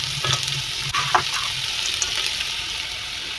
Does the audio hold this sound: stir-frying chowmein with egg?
yes